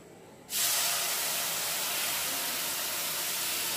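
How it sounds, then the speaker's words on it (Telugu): Milk poured into a hot pan of roasted oats for oats kheer gives a sudden loud sizzling hiss that starts abruptly and stays steady and close, with no talking over it. "మిల్క్ వేసేసుకొని"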